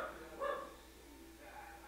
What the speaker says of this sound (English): My dog needs to stop barking.